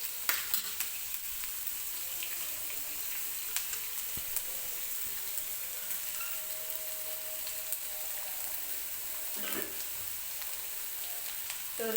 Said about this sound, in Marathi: मग फास्ट गॅसवरतीच मी कांदा व्यवस्थित परतून घेणार आहे तेलामध्ये